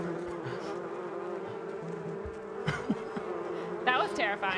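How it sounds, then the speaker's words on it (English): Buzzing bees swarm close around the player in a Minecraft bee greenhouse farm, a continuous droning hum with a louder, nearer buzz swelling near the end. "They're everywhere. The bees."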